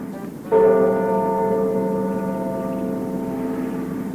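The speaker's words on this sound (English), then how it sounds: "The rope rang the big bell right under Mrs. Bird's nest." A big bell strikes once and rings out with a long, steady humming tone that slowly fades, loud and clear with no voices.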